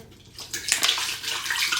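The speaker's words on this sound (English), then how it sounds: "first we're gonna add some water" Water pours into a blender before greens go in for a green juice, a close, steady splashing gush that grows fuller and keeps running to the end.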